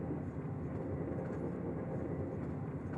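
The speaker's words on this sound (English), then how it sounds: "I take another slow breath, and the train carries me forward." A train rolls through snowy Siberia, giving a continuous low rumble and rushing noise of wheels on track, steady and unbroken from start to finish with no voices.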